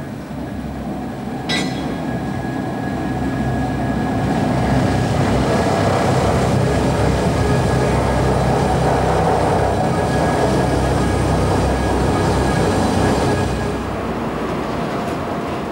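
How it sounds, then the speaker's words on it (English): A maglev magnetic levitation train passing at Emsland produces a loud, sustained rushing roar that swells and holds for over ten seconds before easing slightly, with a faint steady whine above the broad wind-like noise. "Unburdened by friction, this floating supertrain can reach speeds of"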